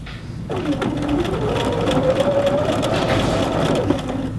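A sewing machine edge stitches along the folded hem of a men's shirt, running in a steady, close mechanical whir that speeds up slightly and holds continuously after starting from quiet.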